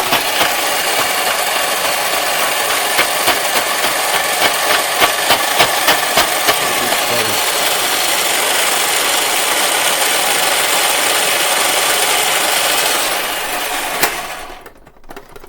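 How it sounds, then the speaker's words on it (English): An electric ice crusher grinds ice from the top hopper down into a jug below, a loud steady mechanical whir with rattling chatter that runs continuously for about thirteen seconds before winding down and stopping. "the ice crushes on the top and it falls into the jug in the bottom in whatever size you want"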